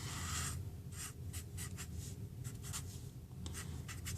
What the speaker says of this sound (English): I'm just gonna draw it here, make a rough sketch, but it roughly looks like this.